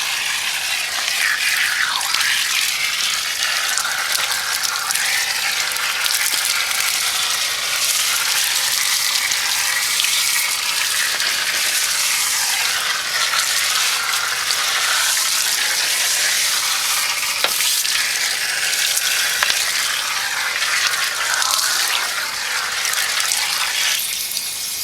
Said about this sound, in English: I'll rinse the brush off, and of course the wheel